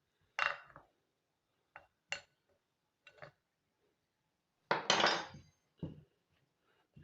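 Potato snack dough being mixed in a bowl with added cooking oil, giving short scraping clinks of utensil against dish in separate bursts, close and moderately loud, with quiet pauses between.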